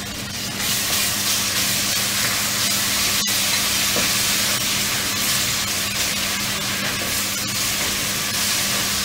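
Ginger garlic paste frying with browned onions in a pan, giving a steady, close sizzle and hiss that runs evenly throughout with no talking.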